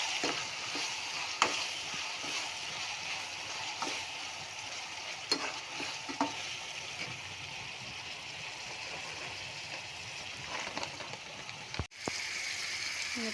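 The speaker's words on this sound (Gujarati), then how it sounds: "વન સ્પૂન અને ચીલી અને જિંજરની પેસ્ટ લીધી છે તે એડ કરીશું." Chili and ginger paste stirred in a frying pan for vegetable pulao, a soft continuous sizzle with light scraping strokes of the spoon and occasional small clicks, alone without talk.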